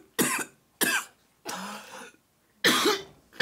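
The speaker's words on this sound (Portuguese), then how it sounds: "Cigana tá com a tosse seca, gente." A woman's dry cough comes in four separate harsh bursts with short silent gaps between them. The bursts are close and loud, with no talking.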